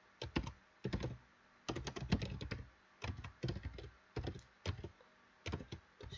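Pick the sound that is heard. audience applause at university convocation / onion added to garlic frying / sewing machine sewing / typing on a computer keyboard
typing on a computer keyboard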